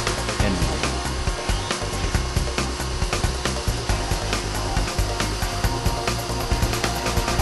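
K2 four-head CNC router with automatic tool change cutting with a half-inch inline bit, a loud continuous high-pitched whine with rapid rhythmic chatter throughout, close by and with no talking.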